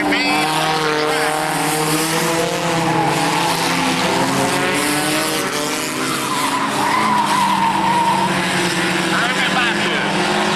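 Race cars run laps on a track during a 2001 racing event, a continuous roar of engines with shifting pitch and tire noise, while an announcer talks over it.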